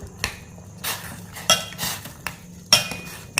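Quarter pieces of pineapple drop into a metal cooking pot while a weight-loss drink is made, giving several sharp, close clinks and clatters spaced apart over a quiet background.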